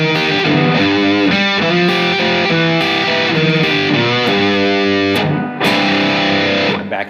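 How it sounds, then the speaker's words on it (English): Overdriven electric guitar plays a blues riff, low notes picked while higher strings are plucked with a finger, a dense, loud run of distorted notes with a brief gap before the final phrase. "you can use your pick to play the 4th string notes and use your middle finger to pluck the 1st string"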